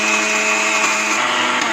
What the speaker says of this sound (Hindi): इसे इसमें डाल देंगे और इसे बारीक पीस लेंगे